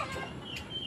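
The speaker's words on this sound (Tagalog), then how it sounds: "ayun yung kulungan namin ng mga manok, mga native, mga mestizo" Native and mestizo chickens cluck inside their coop, a brief, faint, close murmur of clucking against low background noise.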